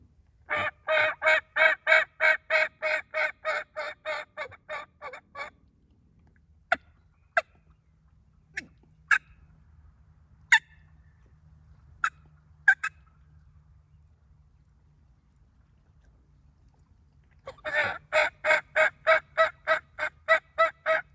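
Wild turkey tom hung up in a field corner, giving long rapid gobbling rattles at the start and end, with a few sharp isolated calls in the quiet stretch between, clear and moderately near.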